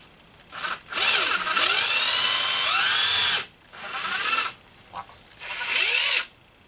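A power drill whines loudly in three long bursts, its pitch shifting as it bites through leather, separated by short pauses.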